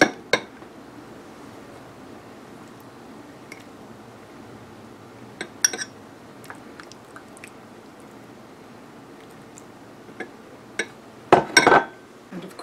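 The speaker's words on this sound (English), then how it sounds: "I'm going to stir these around a little bit and taste" Cooked golden beets are stirred in an Instant Pot 3-quart pressure cooker, giving sparse soft squishes and clinks of a utensil against the pot, with a louder cluster of scraping near the end.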